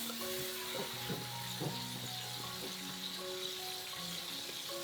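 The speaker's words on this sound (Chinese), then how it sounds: "开小火把这个料炒香啊，放一点点油，把辣椒圈跟蒜粒爆香" Chili rings and garlic sizzle in a little oil over low heat: a steady, close frying hiss that runs unbroken throughout, with faint tonal sounds in the background and no talking.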